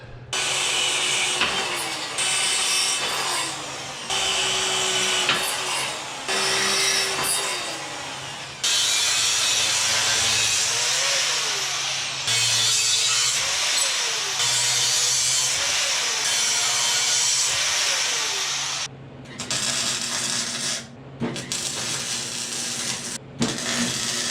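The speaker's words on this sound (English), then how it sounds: "I've just finished drilling up the holes for the pillow bearings" A power drill whines through a metal frame for a sport-bike powered mobility scooter in long sustained runs, pitch rising and dipping as it bites, with brief pauses between holes.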